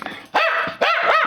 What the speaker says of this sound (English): he's going to go ahead and bark if I don't let go of him